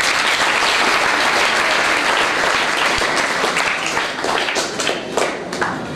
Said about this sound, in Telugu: జడ్జ్ గారు చప్పట్లు కొట్టాలి కదా.